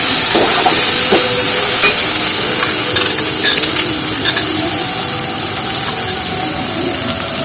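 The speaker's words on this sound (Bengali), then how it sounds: "আর ডালটা আমি মশলার মধ্যে ভালো করে একদম কষিয়ে নেবো কিছুক্ষণ মিনিট দিয়ে আর ডালটা কিন্তু একদম লো আঁচে করে নেবো" Red lentils are stir-fried in spice paste over low heat, a close, busy sizzle with repeated scraping and stirring clicks that eases slightly toward the end.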